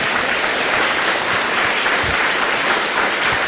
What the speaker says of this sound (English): please give another round of applause to Mr. Faraz Saidam and the Ali family